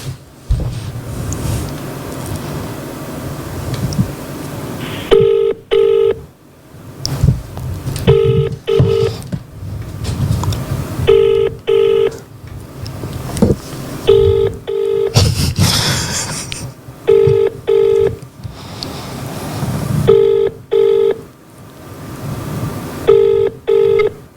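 A phone call to a cousin: repeated pairs of electronic ringback tones sound at regular intervals, with brief muffled talk and room noise in between.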